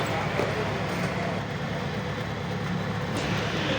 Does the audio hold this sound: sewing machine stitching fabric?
no